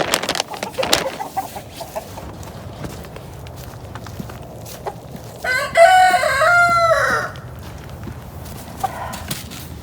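A rooster on a southern homestead before a winter storm crows once, loud and close, in the middle of the stretch, surrounded by scattered footsteps and rustling.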